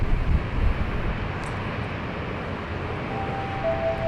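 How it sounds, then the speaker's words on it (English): A Virgin jet departing LAX's north runways for London Heathrow gives a broad, distant roar that stays steady throughout, with a faint thin whine rising near the end. "here is Virgin departing to London Heathrow"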